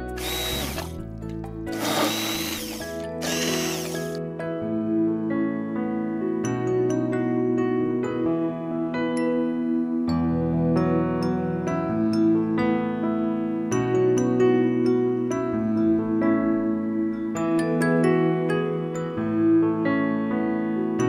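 Kitchen blender whirring as it purees pumpkin, a steady motor drone lasting about twenty seconds with short bursts and shifts in pitch at the start, close and fairly loud, with no voices.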